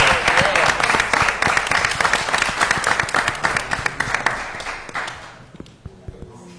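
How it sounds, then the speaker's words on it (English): A round of applause at a city commission meeting, close and loud crowd clapping with distinct individual claps that thins out and fades to a few scattered claps near the end. "Can we give them another round of applause?"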